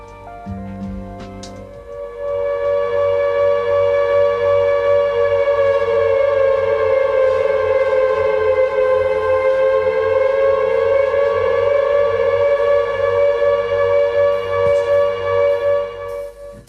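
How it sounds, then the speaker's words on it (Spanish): A loud air raid siren from Silent Hill 2 wails in one long, sustained tone that holds steady for most of the clip after a brief muddle of sound at the start. "de hecho oigo ya a lo lejos la sirena"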